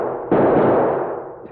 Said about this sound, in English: Those last shots were awful close.